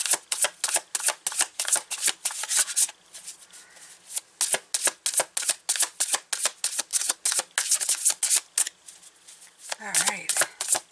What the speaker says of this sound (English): it's pure cardboard, so it's interesting to shuffle.